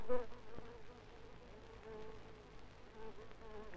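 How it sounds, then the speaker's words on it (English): Bee buzzing in a 1967 British sugar documentary, a faint continuous insect drone with slight wavering, heard over a soft background hiss. "The bee needs to refuel."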